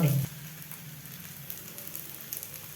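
Avarekalu rava rotti fries in oil in a pan over medium heat: a brief louder burst, then a steady, gentle sizzle with faint crackles, with no speech.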